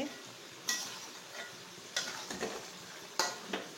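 Masala frying in a pan for an old-style chicken curry, a soft continuous sizzle broken by several sharp scrapes and taps of a spatula against the pan, fairly quiet and close, with no talking.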